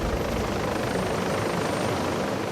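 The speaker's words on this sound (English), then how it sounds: "That's a chopper, and this must be a life and death situation." A helicopter landing at a hospital A&E, its loud continuous rotor and engine roar filling the scene close by with no voices.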